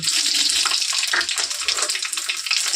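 Panch phoron spices sizzle in mustard oil in a pan, a steady, dense crackling hiss that holds at an even loudness throughout, with no talking.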